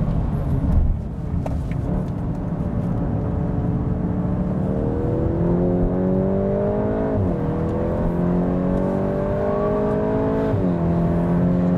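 A Volkswagen Golf GTI Clubsport drives hard on a race track. Its engine drones loud and steady from inside the car, climbing in pitch as it pulls through each gear, with brief dips at the shifts and no talking.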